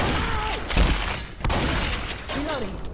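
Video game gunfire on a shooter map bursts out in a dense, loud fusillade with sharp cracks and thuds, mixed with game sound effects and a voice talking over it.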